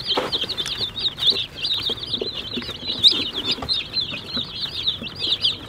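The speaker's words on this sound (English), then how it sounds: "These chickens are Murray's Big Red Broilers from McMurray Hatchery" A brood of newly arrived Murray's Big Red Broiler meat chicks from McMurray Hatchery peeps and chirps nonstop. The shrill calls overlap in a dense, close chorus with soft shuffling underneath.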